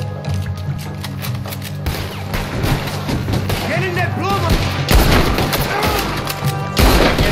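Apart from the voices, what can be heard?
cannon fire from the video game Red Dead Redemption 2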